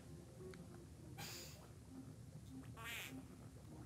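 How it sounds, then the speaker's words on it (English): Short duck quack sound effects from the Donkey Kong 64 video game, two separate bursts over a faint background, played alone with no talking. "Quack."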